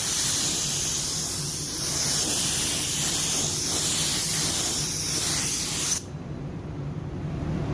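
Spray gun applying matte clearcoat varnish to a car, a steady, close hiss running for about six seconds before the spray stops and leaves a quieter background.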